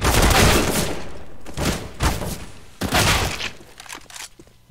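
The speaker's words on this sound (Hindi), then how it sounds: "throwing a grenade bang" A grenade thrown and exploding in CS:GO: loud, sharp bursts of blast and crackling debris hit in quick succession over a few seconds, with gunfire-like cracks between them and no talk.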